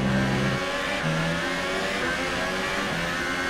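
Race car engine in the F1 2018 video game during the Singapore Grand Prix, a steady, loud, continuous engine drone and whine with slight pitch shifts, with no talking over it.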